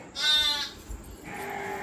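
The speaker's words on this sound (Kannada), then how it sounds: "ಆ ಕುರಿ ಬಡ್ಕತದಲ್ಲಿ" A single sheep bleats loudly for about half a second, a wavering nasal cry, followed by quieter background noise.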